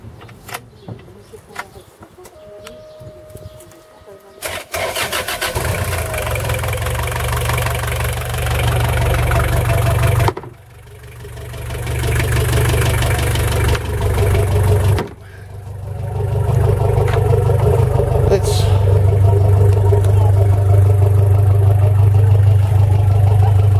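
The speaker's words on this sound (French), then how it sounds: "Nanny Diesel, 50 horsepower. You can see it's got a hydraulic drive there." Nanni Diesel 50 horsepower inboard boat engine with hydraulic drive, on a Porter & Haylett 28 ft Connoisseur cruiser, cranking from stone cold then catching and settling into a loud, steady diesel idle with a brief dip partway through.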